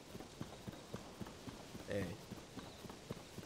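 Horse hooves in Zelda: Tears of the Kingdom clip-clop at a steady, quick rhythm, soft and slightly distant, with a brief spoken word partway through.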